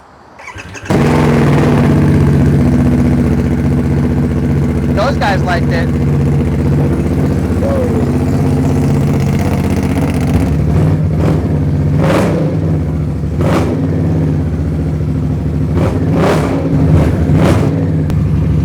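A 2024 Harley-Davidson Nightster fitted with a loud aftermarket exhaust starts after a short pause, then rumbles at a deep, close idle broken by several sharp throttle blips, while people talk briefly in the background.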